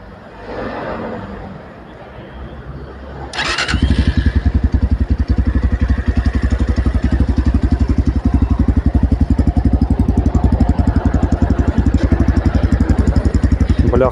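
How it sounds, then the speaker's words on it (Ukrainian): A 2025 Tekken Discovery 300 motorcycle engine cranks and fires after a few seconds of quiet, then settles into a loud, close, steady thumping idle through the exhaust. "як звучить серце цього красення та як звучить вихлопна система"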